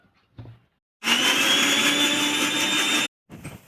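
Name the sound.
electric mixer grinder blending tomatoes into paste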